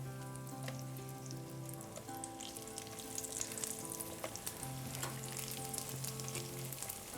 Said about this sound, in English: we're gonna take a few slices of bread and we're gonna toast them in these